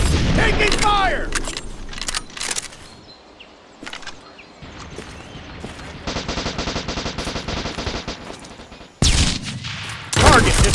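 Bursts of gunfire from the online PvP shooter Modern Strike Online, with rapid automatic volleys and scattered single shots rising and falling over several seconds, mixed with game effects and brief in-game voice callouts.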